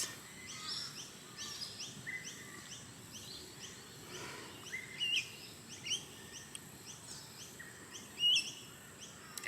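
Birds singing outdoors, repeated chirps and short calls over a soft ambient background, a few louder tweets standing out near the end.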